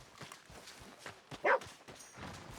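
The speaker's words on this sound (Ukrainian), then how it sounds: "Що ти гавкаєш?" A dog in the Red Dead Redemption 2 game gives a single short bark amid faint footsteps and background game ambience.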